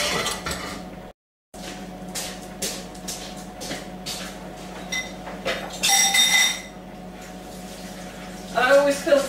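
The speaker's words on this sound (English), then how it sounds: "I always fill things with water when I put them in the sink" Dishes clink and clatter into a sink with water running, the sharp knocks coming in bursts while a voice murmurs faintly in the background.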